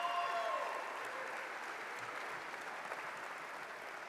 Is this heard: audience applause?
yes